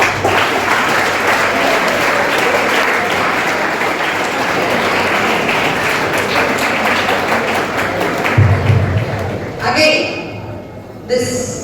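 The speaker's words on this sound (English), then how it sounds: "Clap." An audience at a college commerce workshop claps, a dense steady round of applause lasting around ten seconds before fading, followed by a few brief voices.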